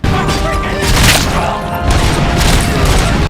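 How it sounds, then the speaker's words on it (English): Robocop's automatic gun fires in the RoboCop: Rogue City video game, a loud close run of booming shots with mechanical clatter, continuing for a few seconds with a brief dip in the middle. "Robo's gun does not sound like that"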